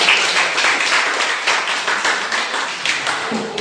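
A classroom group claps together in a dense, steady burst of applause that thins slightly toward the end, with no talking over it.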